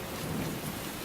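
Steady, dense rain during a thunderstorm, a continuous wash of downpour with a low rumble underneath, loud and even throughout with no voices.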